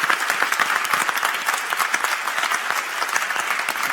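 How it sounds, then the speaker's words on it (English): A live audience at the Famelab UK 2016 final, a science communication competition, gives a round of applause. The clapping is loud, dense and sustained, with no voices over it. "I think Helen should have a round of applause as well."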